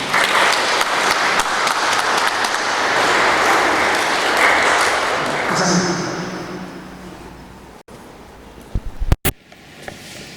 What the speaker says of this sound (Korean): 우리 다 같이 박수로 축하해 주시죠.